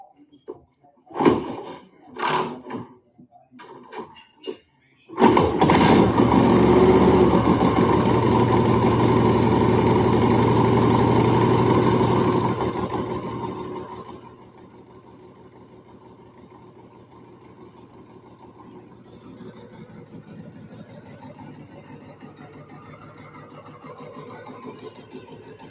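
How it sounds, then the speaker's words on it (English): A 1953 Panhead chopper motorcycle engine is cranked over in a few short bursts, then catches and roars loudly for several seconds before dropping to a steady, quieter idle. "Roll her over, full choke. Half choke. Turn the ignition on."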